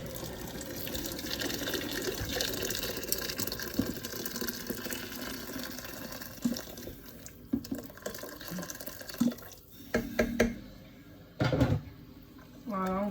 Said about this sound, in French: maintenant je vais mettre de l'eau.